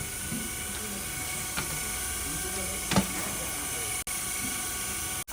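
A mango pulp stuffing and mixing machine in a factory runs continuously with a steady whirring hum and hiss, with a few faint clanks and people talking nearby.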